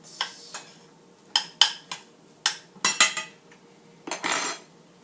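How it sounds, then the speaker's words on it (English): Corn being stirred in a pot with a metal utensil: a series of irregular clinks and scrapes of cutlery against the pot, close and crisp, with quiet gaps between strokes and a longer scrape near the end. "We're going to stir corn."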